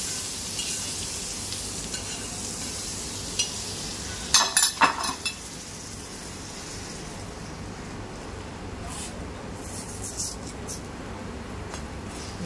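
A cheese and green chutney sandwich fries in butter in a pan, giving a steady close sizzle throughout, with a brief clatter of utensils midway.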